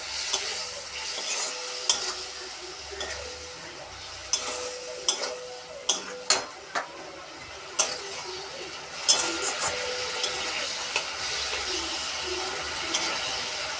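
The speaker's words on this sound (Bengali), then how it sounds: "টমেটোটা দিয়ে দেবো, দিয়ে ভালো করে নেড়ে নেবো।" Chopped tomato is stirred into a pot for an egg, potato and soya bean curry, with a low frying sizzle broken by a series of sharp spoon clacks against the pot, close and without speech.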